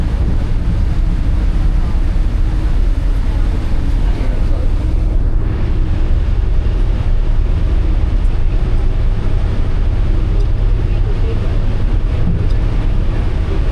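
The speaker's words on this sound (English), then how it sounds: "Steve is back there pushing us up the mountain on a 650 horsepower John Deere Marine diesel engine" A cog railway train climbs Mount Washington, pushed from behind by a 650 horsepower John Deere marine diesel engine. It gives a loud, continuous low rumble with steady wind and motion noise and no breaks.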